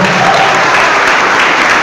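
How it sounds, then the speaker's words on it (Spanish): Dense applause from a church audience runs steadily and loud through the brief stretch, close and continuous with no break. "Aplauso fuerte, que se oiga, aplauso,"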